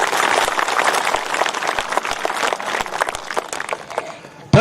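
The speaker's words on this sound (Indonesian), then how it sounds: "Tepuk tangan untuk Tuhan, luar biasa." A church congregation claps and cheers in thanks to God, dense sustained applause that fills the space, with scattered louder claps standing out before it tapers and cuts off at the end.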